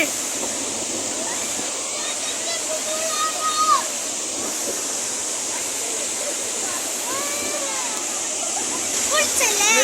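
Rainwater gushing along a channel in the rainy season, a constant rushing hiss heard close by while people talk over it.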